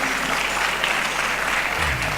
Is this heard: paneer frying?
no